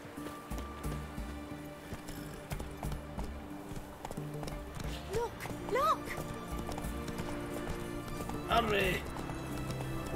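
A horse's hooves clip-clop steadily in The Witcher 3 video game, with a couple of short whinnies breaking through, heard at moderate level amid faint game ambience.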